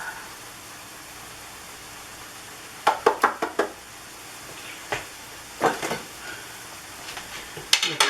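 Tofu chili cooking in a Cosori Instant Pot, a faint sizzling hiss after a quiet stretch, then bursts of stirring with knocks and scrapes of a utensil against the pot, close and with no talking.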